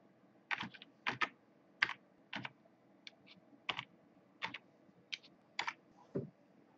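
Keys clacking on a computer keyboard while code is typed, in short irregular bursts of close, crisp clicks against a quiet room with no talking.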